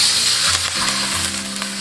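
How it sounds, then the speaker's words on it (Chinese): Chopped scallion and ginger stir-frying in a little hot oil in a wok, a loud close sizzle with stirring scrapes running continuously. "加入葱姜炒香"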